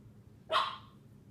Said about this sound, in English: that's a chihuahua in the background